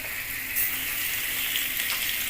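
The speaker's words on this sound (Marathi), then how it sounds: "असं तेल असल्यावर असं सोडायचं बांगडे तेलात." Malvani bangda (mackerel) fish frying in hot oil in a pan, a steady, dense sizzle and crackle holding at an even level throughout, close and alone with no voices.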